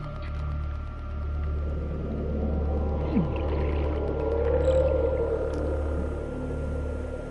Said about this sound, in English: You guys hear those roars just then?